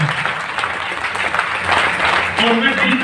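Seminar audience claps loudly and steadily, a dense wash of many hands sustained for a few seconds, with a voice speaking over it.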